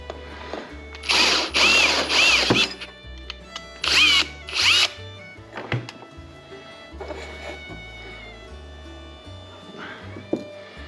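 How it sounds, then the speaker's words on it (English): A power drill bores into a VW distributor in short loud bursts, whining as the bit spins up and bites, separated by pauses with clicks and handling noises close by. "So you gotta be careful when you're drilling or pressing on it."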